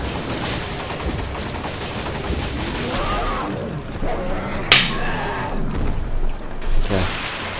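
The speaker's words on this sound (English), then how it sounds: "I have to shoot those guys in the side" Shooting at enemies in Resident Evil 5 comes through as scattered shots under game noise and talk, with one sharp, loud crack standing out midway.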